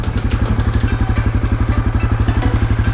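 Honda CRF 250F dirt bike engine pulling away, a loud, close, rapid, steady thumping exhaust beat from a single-cylinder four-stroke, alone without talk.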